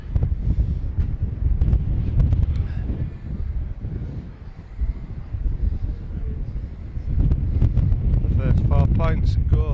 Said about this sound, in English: as the wind, I think, increases in strength